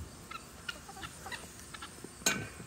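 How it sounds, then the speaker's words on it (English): Free-range chickens on a farm cluck softly in short, scattered bursts, with one louder squawk near the end, all fairly faint against a quiet outdoor background. "Got free range birds."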